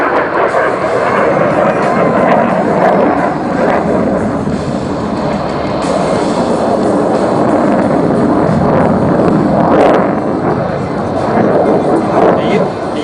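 A RAAF F/A-18 Hornet jet at an airshow performing a minimum radius turn roars loudly and continuously with broad, rumbling turbulent noise throughout.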